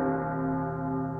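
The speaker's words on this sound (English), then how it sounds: "The bells? They're ringing." A steady, sustained bell-like tone, such as ringing church bells, holds evenly at a constant loudness for about a second, with no voices.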